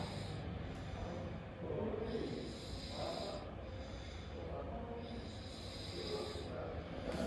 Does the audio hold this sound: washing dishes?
no